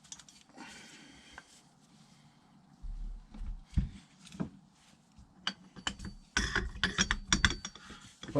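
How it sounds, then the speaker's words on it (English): A cordless impact driver tightens a thread-locked fork bolt on a Kawasaki ZX10 motorcycle during a fork seal replacement, heard up close as scattered ratcheting clicks and short bursts that build into a loud, sustained rattling hammer toward the end, with no talking. "That's as tight as the impact driver will do it."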